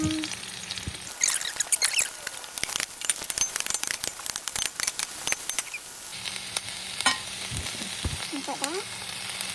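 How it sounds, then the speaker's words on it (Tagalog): Onion sizzles and crackles in hot sunflower oil, a dense close frying hiss with scattered pops and stirring scrapes, briefly dropping in level partway through, with no talk. "gonna saute the onion now"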